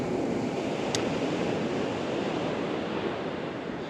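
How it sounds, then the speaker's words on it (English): Sea waves wash onto a beach on the UK east coast at Huttoft Bank, Sandilands, as a constant broad surf roar mixed with wind noise, with no speech. "It is nice to have the sounds of the sea."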